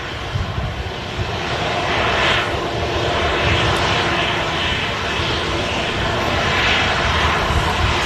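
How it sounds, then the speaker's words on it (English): A Vueling A320neo-family jet airliner on final approach into Manchester Airport, its engine roar broad and steady, swelling slightly as it passes, with faint talk in the background. "I think this is the Vueling Neo, did you say? Is now on a final approach into Manchester."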